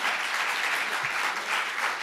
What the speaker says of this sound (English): Please give them a round of applause of welcome